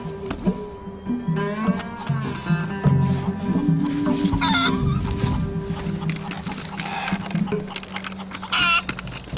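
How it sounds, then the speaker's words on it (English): Chickens cluck and a rooster crows at an open-air marketplace, the birds close and busy in a continuous, uneven chatter over a background bustle, with no speech. "should we feed the chicken some more?"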